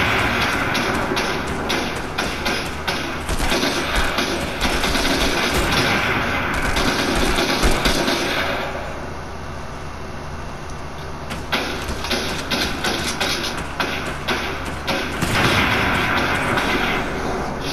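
Sustained gunfire in the Fortnite video game, loud rapid shots in long irregular bursts with short gaps, over a steady din of game noise, lasting many seconds.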